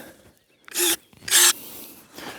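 An electric pruning shear snips branches close up, two sharp bursts of motor whir and cutting followed by a fainter third, with quiet gaps between.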